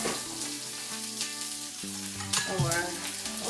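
Onion or garlic sizzles steadily in a hot pan at the start of a Filipino pork adobo, with a close, continuous frying crackle and occasional stirring clatter and pan clinks.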